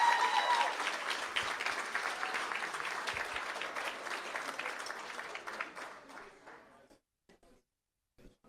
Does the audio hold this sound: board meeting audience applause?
yes